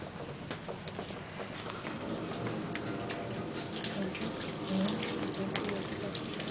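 A tap runs steadily into a sink while a finger is rinsed during a sheep brain dissection in a lab, a soft, even hiss of water throughout.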